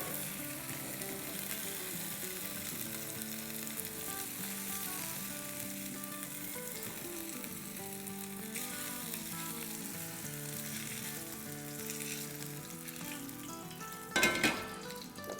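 Chicken pieces for Turkish-style doner frying in oil in a pan, a loud continuous sizzle running throughout, with a brief clatter of a utensil near the end.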